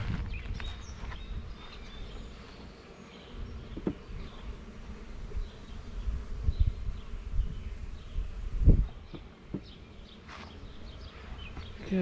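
Honeybees from a hive frame being shaken, a dense, steady buzz of many bees close by, with occasional bumps and knocks from handling the hive woodwork.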